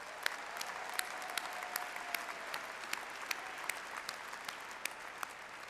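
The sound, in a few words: commencement audience applause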